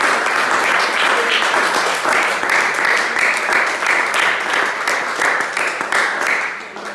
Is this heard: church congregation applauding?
yes